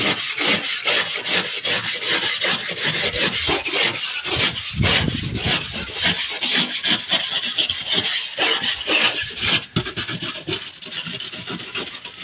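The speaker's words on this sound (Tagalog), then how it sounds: "Mabuti yung steel brush yan" A steel brush scrubs across wood in quick, rhythmic back-and-forth rasping strokes, close and loud and continuing steadily throughout.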